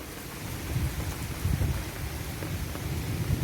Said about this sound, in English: Maybe it's continuous thunder,